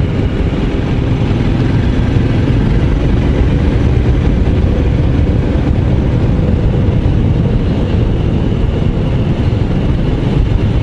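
A Royal Enfield Scram 411 motorcycle, a 411 cc single, rides along a trail, its engine running as a steady, loud, continuous drone that holds level throughout with no talk over it.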